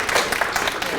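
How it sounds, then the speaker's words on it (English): Brief burst of steady clapping from a crowd at a graduation reception for graduates, loud and close, with a voice briefly mixed in. "one more round of applause for all of our graduates"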